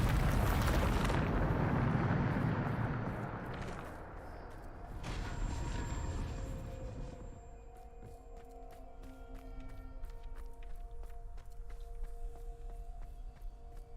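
A Bombarda explosion spell in Hogwarts Legacy, a loud rumbling blast up front that fades into a long decay, followed by ringing tones and light clicks.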